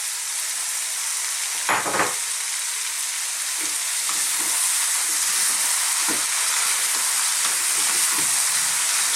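Chopped tinned plum tomatoes drop into a hot vegetable chili pan with a loud splash, then a steady sizzle and hiss continues while a spoon stirs, scraping softly in scattered strokes.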